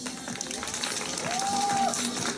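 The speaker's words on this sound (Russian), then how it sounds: "ваши громкие аплодисменты." Audience applause at an open-mic talent show in Kostroma, moderately loud clapping from a hall crowd that builds slightly and holds steady, with a faint whistle-like tone partway through.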